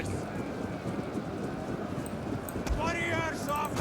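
Horses galloping in a Total War: Rome II battle, a dense continuous clatter of hooves mixed with battle noise, with a voice briefly heard near the end.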